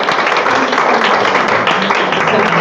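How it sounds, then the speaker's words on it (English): Audience applause in a room at a talk on raising neurodivergent children: dense, steady clapping from a crowd, loud and close, continuing without a break. "maybe all give her a round of applause."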